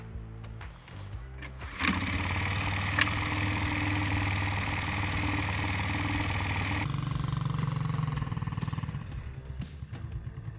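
A small, cheap ATV engine is pulled over with its manual starter, catches abruptly and settles into a steady, buzzing idle. The pitch shifts and the engine runs a little rougher near the end.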